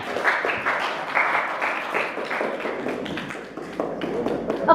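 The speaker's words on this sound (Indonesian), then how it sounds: "Ya tepuk tangan untuk filosofi." A group of film competition participants gives a round of clapping, with dense, uneven claps that are close and steady and gently taper off.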